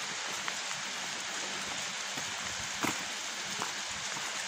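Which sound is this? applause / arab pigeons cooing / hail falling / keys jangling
hail falling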